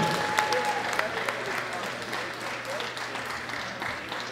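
Crowd applause for a gold medal winner at a world classic powerlifting championship, steady broad clapping throughout with an announcer's voice faintly under it and a low hum in the background.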